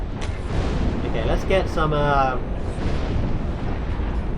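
Booming explosions rumble continuously through a scene in the god game Black & White (2001), dense low-frequency blasts filling the mix while someone talks over them.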